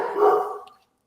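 A house dog gives one short, loud, close bark that fades out within about a second, with no talking around it.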